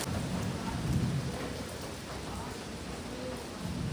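A heavy downpour with thunder during a sudden storm: a dense, loud wash of rain with low rolling rumbles swelling and easing across the few seconds.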